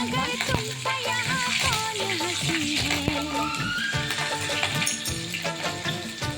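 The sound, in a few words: nigella seeds and spices sizzling in hot fish-frying oil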